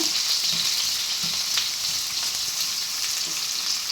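Two onions sautéing in a pan with green chillies for a Madurai-style chutney give a loud, steady, close sizzle with a few soft stirring bumps, and no one speaks.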